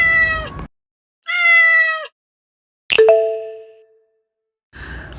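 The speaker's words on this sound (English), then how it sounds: "I am cat." A domestic cat meows twice, close and clear, each a drawn-out call. A sharp ringing ding with a fading tail follows, then a brief further sound.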